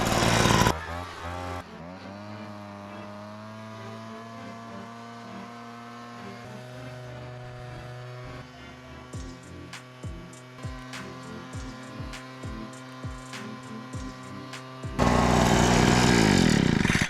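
A Wildbadger backpack leaf blower starts and runs, first a brief sputter, then a steady droning engine hum that holds for several seconds before the motor revs up loudly near the end, close to the listener, with no talking.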